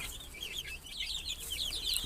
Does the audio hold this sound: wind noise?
no